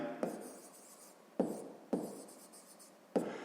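Pen writing on paper while setting up a sixth-grade maths word problem, four distinct close scratchy strokes with sharp starts and fading scrapes, no voice heard.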